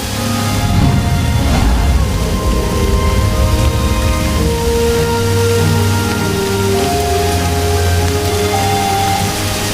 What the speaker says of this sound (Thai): มีฝนตกพรำตลอดเวลา